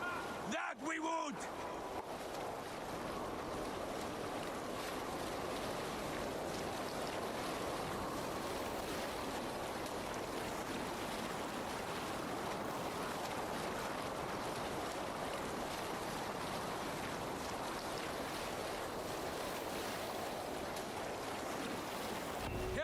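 A Viking longship sails the open sea in Assassin's Creed Valhalla, bringing a steady, loud wash of waves, rushing water and wind after a brief thump at the start, without talking.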